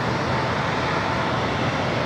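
Broadband roar of an SAS airliner rolling for takeoff down runway 25 right at LAX, a steady, continuous engine and rumble noise heard from a distance with no voices.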